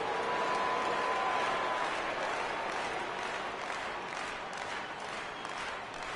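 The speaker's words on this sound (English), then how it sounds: "with the crowd still buzzing over the grand slam" A baseball stadium crowd roars and buzzes steadily after a grand slam in a Mets versus Nationals game, a loud, sustained wash of cheering and applause that eases off slightly toward the end.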